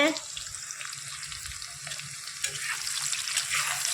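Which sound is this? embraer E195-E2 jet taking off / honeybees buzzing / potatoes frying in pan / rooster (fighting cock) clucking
potatoes frying in pan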